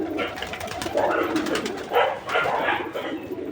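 Pigeons coo repeatedly at close range in a home setting, soft rounded calls rising and falling in short bursts, with a person talking at times in the background.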